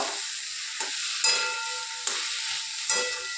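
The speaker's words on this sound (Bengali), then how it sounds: "তোমরা এটাকে ভালো করে আলুটার সাথে মশলাটাকে ভালো করে মিশিয়ে নেব।" Boiled potatoes tossed with spices in a hot pan, a steady close sizzle broken by a few sharp scraping stirs at roughly regular intervals.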